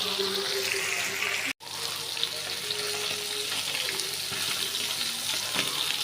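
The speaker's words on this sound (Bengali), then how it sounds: "এই যে এখানে মাছগুলো বসাই দিচ্ছি, মাছগুলো লাল করে ভাজা নিব" Soft fish sizzles loudly and steadily in hot oil as it fries until reddish, a dense crackling hiss that briefly cuts out near the start and then continues unbroken.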